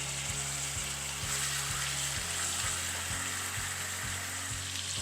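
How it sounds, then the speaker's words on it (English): Chicken thighs crowded together in one pan brown with a steady, moderate sizzle and crackle, while a low rhythmic hum pulses underneath and no one speaks. "We're going to brown both sides for about 5 to 7 minutes on each side until they're nice and brown"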